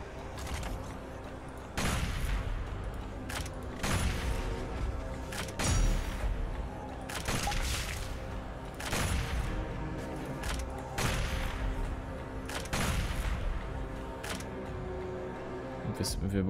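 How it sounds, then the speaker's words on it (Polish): Explosions and heavy gunfire in the first-person shooter DOOM Eternal, sharp booming bursts landing every second or two over a continuous rumble of game noise, loud and near. "Wybuch."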